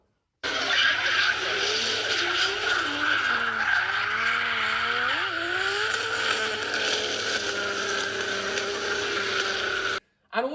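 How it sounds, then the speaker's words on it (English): A Nissan S15 skids with sustained, loud tire squeal and a straining engine whose pitch wavers and climbs, running continuously for about ten seconds before cutting off abruptly. "Doing skids in your S15"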